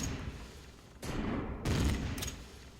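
Automated turret gunfire in the Empyrion space-survival game, aimed at a walking daffodil creature, comes as two dense bursts of rapid shots, loud and close, with a short gap between them.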